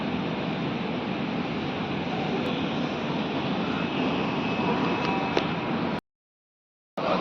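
At an airport, a steady, loud, broad roar of airplane engines fills the scene for about six seconds, then cuts to silence before a brief return at the end.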